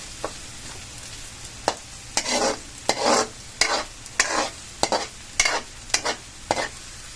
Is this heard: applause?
no